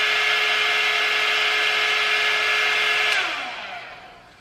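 A Revlon or Panasonic hair brush dryer blowing on its cool setting, a loud steady close whir with a constant motor whine that winds down and fades after being switched off.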